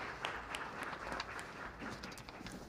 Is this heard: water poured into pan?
no